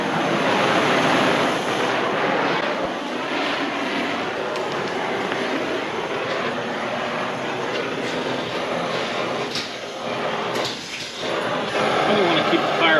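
A torch flame heats the suspension coil springs on a truck being cut for a 5-inch drop, a steady roaring hiss running throughout while someone talks over it.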